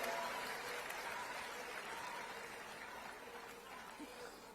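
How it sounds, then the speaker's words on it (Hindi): A gathered crowd in Delhi claps for Prime Minister Narendra Modi, a fairly faint, distant-sounding wash of applause that slowly tapers off, with a little murmuring and a faint chuckle mixed in. "जोरदार तालियां देश के प्रधानमंत्री नरेंद्र मोदी जी के लिए"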